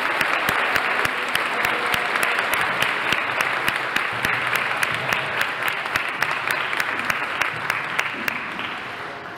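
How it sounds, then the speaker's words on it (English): Parents in an audience applaud the teachers and children after a preschool Christmas program, a dense, lively clatter of many hands with sharp individual claps standing out, slowly tapering near the end. "can we give them one more round of applause to the teachers and the kids?"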